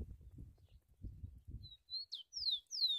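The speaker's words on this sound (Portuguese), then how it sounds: "seu passarinho já começa a cantar agora na mão" A rufous-collared sparrow (tico-tico) in a cage sings thin, high whistled notes and a quick descending trill, following a stretch of soft low rustling and handling noise.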